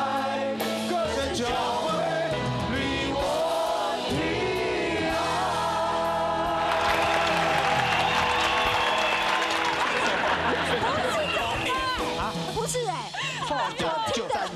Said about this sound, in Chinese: 好像 掌声响